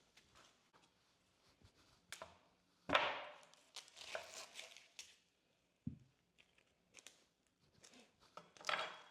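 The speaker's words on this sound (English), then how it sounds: "we're gonna go ahead and cut up half of an onion and one" A knife cuts half an onion and a whole jalapeno on a cutting board, giving quiet, scattered chops and thuds at irregular intervals with some scraping between them and no talk.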